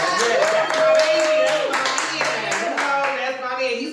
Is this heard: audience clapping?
yes